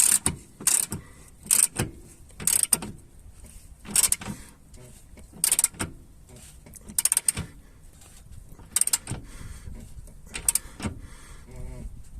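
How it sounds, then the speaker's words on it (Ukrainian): A nut is tightened onto a rear transverse control arm bolt on a Kia Magentis, giving repeated short ratcheting and metallic clicking bursts up close, spaced by brief pauses. "І в такому положенні тримаю головку болта, затягую гайку."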